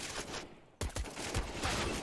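Rapid bursts of gunfire crack through a CS:GO match, a short pause followed by a sharp volley of shots, loud and close over a busy background.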